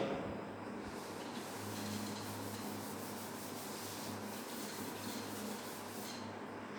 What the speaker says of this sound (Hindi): अब मैं ये रब कर रहा हूं सारा नीचे का